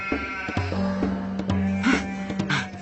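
Sheep bleat repeatedly in a field, several wavering calls overlapping a steady tonal music background, moderately loud and close.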